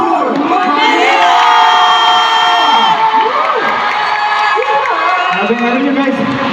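A large concert crowd at a Manila world tour show shouts and cheers continuously and loudly, a dense roar with rising whoops and cries that never lets up.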